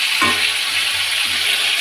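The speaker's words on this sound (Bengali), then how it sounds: "ভাজতে থাকছি, একটু ভালো করে সুন্দর করে ভেজে।" Bitter gourd frying in a kadai with a little salt gives a steady, fairly loud broadband sizzle with no pauses.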